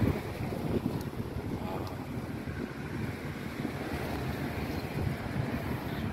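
Steady wind rushing and buffeting a microphone outdoors near a palm tree on a humid day, continuous and fairly loud low rumble for the whole stretch with no speech.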